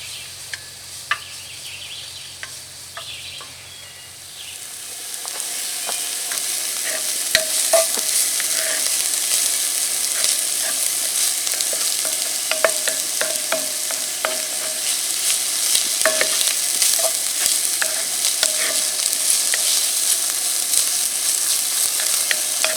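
Onions frying in a pan over charcoal briquettes at a campsite, a steady bright sizzle that swells after a quieter start, with occasional scrapes and stirring clicks, close up and without speech.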